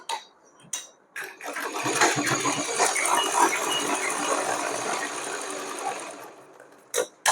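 A sewing machine stitching cotton fabric runs in one long, steady whirring burst up close, with short clicks and handling noises before and after it.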